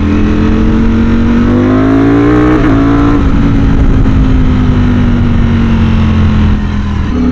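A Ducati Streetfighter V4S motorcycle engine revs loudly and close, its steady high-pitched roar dipping and climbing slightly around the middle before holding strong to the end, with no talk.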